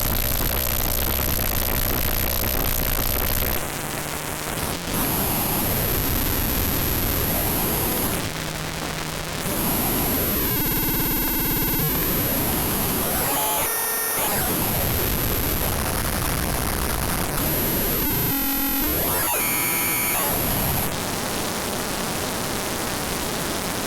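FM synthesis tones from a trained parameter mapping shift continuously between noisy hiss, buzzy static and sweeping pitched whistles, loud and unbroken with abrupt changes of timbre throughout.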